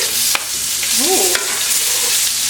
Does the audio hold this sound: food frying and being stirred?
yes